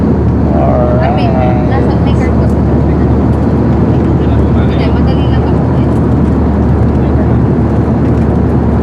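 Steady broadband roar of an airplane in flight, heard from inside the cabin on a first flight, loud and continuous throughout with a brief tonal whine near the start.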